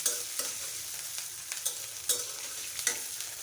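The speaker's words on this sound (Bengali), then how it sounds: "কিছু চিংড়ি মাছ এই পেঁয়াজের সাথে ভেজে নিব" Prawns frying with onion in a pan make a soft, steady sizzle, broken by several sharp scrapes and clinks of a spatula stirring at irregular intervals.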